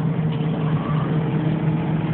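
Short course off-road racing trucks in the Lucas Oil Series run their engines hard down a steep section, a steady loud engine drone with a low hum that holds throughout without a break.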